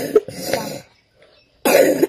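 Two or three rough coughs close to the mic, a short pause, then another harsh cough burst.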